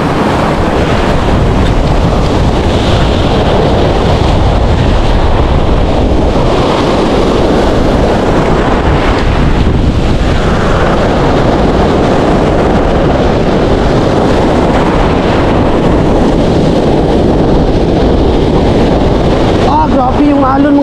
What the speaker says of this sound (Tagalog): Grabe yung alon mga master, oh. Ang laki.